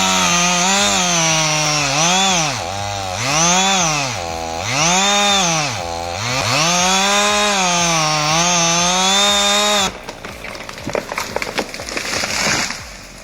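A chainsaw cutting a tree runs loud and close, its engine rising and falling in repeated revving swells for about ten seconds, then cuts off abruptly into crackling, rustling debris noise.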